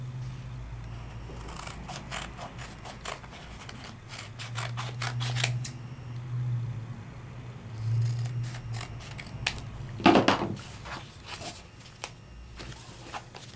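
Scissors trim a sheet of paper for a scrapbook card, with a quiet run of crisp, close snips in quick bursts.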